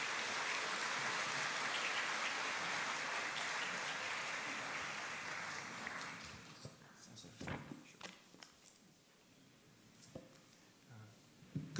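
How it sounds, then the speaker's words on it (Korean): Church congregation applause welcoming two guest speakers to a Sunday worship service, a broad sustained clapping that tapers off after about six seconds, leaving scattered individual claps and faint room noise. "두 분을 따뜻한 박수로 환영하며 맞이하겠습니다."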